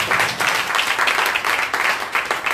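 A church congregation breaks into sustained applause, a dense wash of clapping hands filling the room at steady loudness for a couple of seconds.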